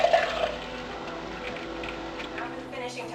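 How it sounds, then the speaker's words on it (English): Water pours steadily into glass canning jars prepared with garlic and spices, a continuous close splashing and filling sound with a faint voice talking in the background. "it's time to add the water."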